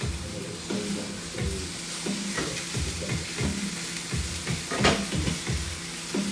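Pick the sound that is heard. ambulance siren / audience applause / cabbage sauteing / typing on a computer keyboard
cabbage sauteing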